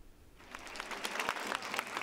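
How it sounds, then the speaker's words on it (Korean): Roughly 400 female soldiers at an army field command clap to welcome a guest. It starts quiet and quickly builds into dense, sustained applause filling the room. "400여 명의 여군들이 박수로 한 사람을 맞이합니다."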